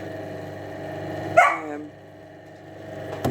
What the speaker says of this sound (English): These dogs are trying me terribly today.